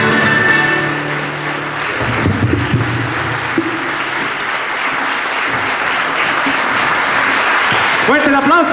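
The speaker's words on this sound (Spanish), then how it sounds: "Fuerte el aplauso" A crowd applauds the folk music group, a loud, sustained wash of clapping with voices and cheers mixed in and a speaker talking over it toward the end.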